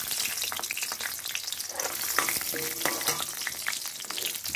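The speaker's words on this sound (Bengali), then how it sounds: "এখন আমি কাঁচা লঙ্কা দেব" Green chillies hit hot oil in a kadai already holding fried lentil dumplings and black cumin, giving a loud continuous sizzle and spitting with scraping stirs throughout, no voices.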